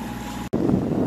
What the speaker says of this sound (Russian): Сегодня у нас хороший ветер.